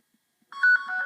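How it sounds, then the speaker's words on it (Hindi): A mobile phone rings remotely through a find-my-device feature, giving a loud electronic ringtone of warbling tonal beeps that starts abruptly after half a second of silence and keeps sounding alone. "ये देखें मेरे मोबाइल पर बेल हो रही है।"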